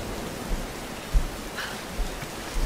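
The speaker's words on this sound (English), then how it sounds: "I'm looking forward to when the rain stops." Steady rain in the video game Tomb Raider (2013), a dense, even hiss with a few soft low thumps scattered through it and no voices.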